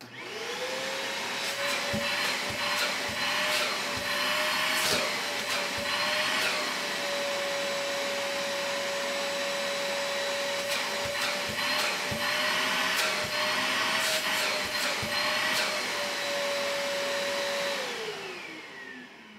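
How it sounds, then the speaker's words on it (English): A Pellethead Ash Vac Pro motor whines steadily for a long stretch, loud and close, with clattering bumps throughout, then spins down at the end. "this is very similar to my house vacuum cleaner, just as far as overall noise"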